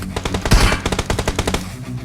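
Automatic gunfire in PUBG Mobile, with a UMP submachine gun mentioned: a loud, rapid burst of evenly spaced shots lasting about two seconds, punctuated by a heavier boom near its start.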